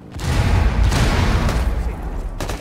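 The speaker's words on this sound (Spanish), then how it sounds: "Granada." A grenade explodes in the video game Rainbow Six Siege, a loud close boom with a rumbling, crackling tail lasting a couple of seconds, followed by a short burst near the end.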